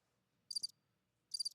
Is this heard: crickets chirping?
yes